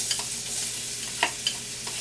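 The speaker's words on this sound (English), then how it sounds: "Add that whole onion in" Onions hitting hot chicken drippings in a pan for smothered chicken gravy, sizzling steadily with a few sharp stirring clinks and scrapes near the mic.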